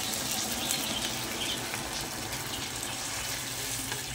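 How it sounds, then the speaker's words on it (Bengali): Water poured into a pan while chili chicken is being cooked at home, a steady close hiss and splash running throughout with no pauses. "জল দিয়ে দিচ্ছে।"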